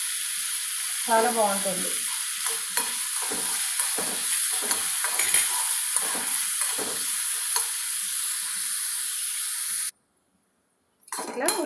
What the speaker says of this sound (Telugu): ఇట్లా ఉల్లిపాయ ఇట్లా మంచిగా వేగిందండి.